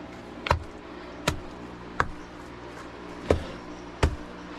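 A trusty hammer strikes sapphire-bearing rock in five sharp, separate blows at an irregular pace, each a crisp close knock that fades quickly over a low background hum.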